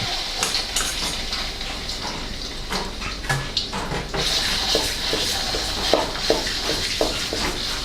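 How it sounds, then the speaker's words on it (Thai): Southern Thai red curry paste stir-fried in oil over low heat, for spicy catfish with stink beans: a spatula scrapes and clinks against the pan in an irregular rhythm over a soft, continuous sizzle. "ผัดให้พริกแกงสุกหอม"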